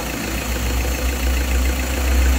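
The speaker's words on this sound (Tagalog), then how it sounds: "Ayan, ang andar ng makina ni sir." Steady low rumble of an Isuzu Trooper engine idling, fitted with a China-made turbo, close and continuous with no talk over it.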